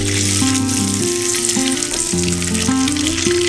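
Eggs frying in turmeric-spiced oil in a kadhai, with a steady crackling sizzle running under prominent melodic background music.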